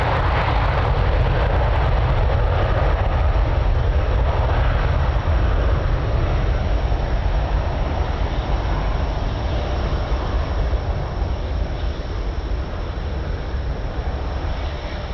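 Airplane at Lisbon Airport near runway 02, a loud continuous engine roar with broadband rushing noise, steady and close for the whole stretch and slowly easing toward the end.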